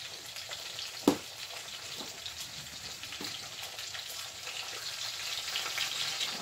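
Salmon patties fry in an iron skillet with a steady, moderate crackling sizzle, marked by one sharp knock early on and a few soft clicks.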